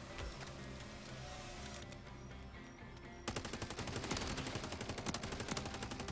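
Gunfire in Modern Warfare Zombies video game: a rapid, steady automatic burst of evenly spaced shots kicks in partway through, loud over busy game noise, following a stretch of dense background sound.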